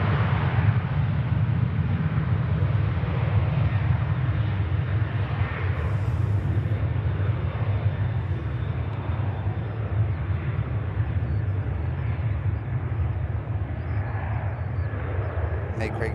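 An airplane taxis out at an airport, a continuous low engine rumble and broadband roar that holds steady throughout, heard from a distance with a voice talking over it.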